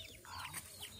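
A chicken clucking faintly outdoors, a few short soft calls in quick succession, distant and low in level.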